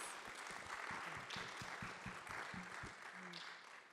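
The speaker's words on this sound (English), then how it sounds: "let's give them another huge round of applause" A round of applause for panelists at a student school event, with individual nearby claps standing out over a dense crowd and brief voices and cheers mixed in before it tapers slightly.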